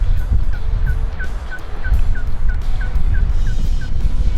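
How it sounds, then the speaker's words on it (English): A wild turkey gobbles repeatedly during a spring hunt in South Dakota, about a dozen short, loud, evenly spaced calls ringing out close by over steady background rumble. "He's gobbling and getting closer, and the next thing I know, he's right there and he's gobbling."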